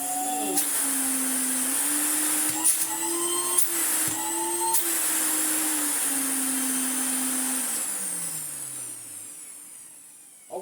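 A restored Electrolux Dolphin Z2220 vacuum cleaner runs its motor with a steady loud whine and hum, shifting pitch slightly with a few clunks, then winds down near the end.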